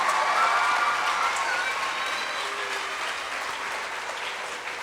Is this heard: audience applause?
yes